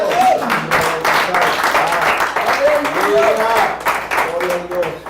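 A church congregation claps for the Lord during a sermon, a lively burst of hand claps mixed with voices calling out and speaking over it throughout.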